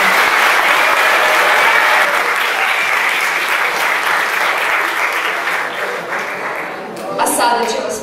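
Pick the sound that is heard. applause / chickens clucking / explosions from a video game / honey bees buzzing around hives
applause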